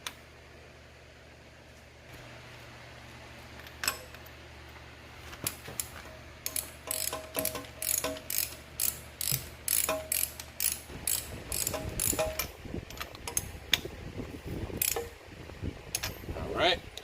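A hand ratchet clicks rapidly in repeated bursts while tightening spark plugs into a 1970 Dodge Charger 318 V8, close and crisp, with pauses between strokes and a low hum early on.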